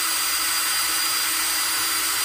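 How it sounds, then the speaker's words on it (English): A drill bores into plastic with a steady, loud, unbroken whine and hiss that lasts throughout, with no talk. "I just put the drill right where I marked it"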